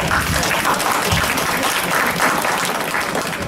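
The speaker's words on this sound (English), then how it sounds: "Let us all give her a big round of applause." Audience applause for a speaker at a book launch, a dense, steady clapping that stays loud and close for the whole stretch with no pauses.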